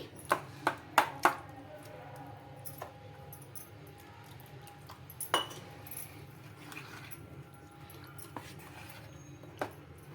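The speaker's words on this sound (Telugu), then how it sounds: "వేసుకొని బాగా కలుపుకోవాలి" A spoon mixes rava batter with half a spoon of baking soda in a bowl, giving a quick run of sharp clinks against the bowl at the start, then a few scattered taps amid quiet scraping.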